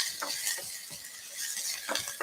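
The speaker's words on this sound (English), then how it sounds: "Gonna stir the garlic," Garlic and onion stirred in a hot pan with a utensil, a series of quick scraping and clinking strokes over a soft, continuous sizzle, close and fairly clear, no talking.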